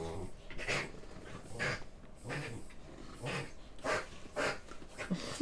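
A dog nearby huffs and snorts in a steady series of breathy bursts, faint and close, with low growly breathing between them.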